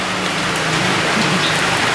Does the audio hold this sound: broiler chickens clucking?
no